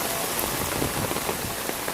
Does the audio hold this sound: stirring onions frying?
no